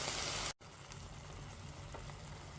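Chicken with port, cream and mushrooms simmers gently over low heat in a pan, giving a steady soft sizzle and bubbling hiss; a brief clatter and dip occurs near the start, then the quiet even sizzle continues alone.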